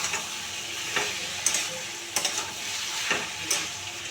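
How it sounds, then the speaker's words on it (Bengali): Fish-head curry with pumpkin greens and tomato frying in a pan is stirred, giving a steady sizzle broken by several sharp spatula taps and scrapes at irregular intervals. "দিয়ে এবারে ভালো করে নাড়িয়ে নিয়ে"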